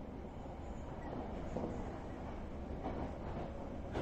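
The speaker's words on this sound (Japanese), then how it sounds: "また電車だよ。" A train rumbling steadily along its tracks in the Japanese horror game Kaii Shoukougun, a continuous low, dense roar with no pauses, heard alone throughout.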